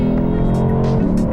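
A 2023 Lexus IS500 F Sport pulls hard under acceleration, its engine a loud, steady droning roar that climbs in pitch over a brief burst.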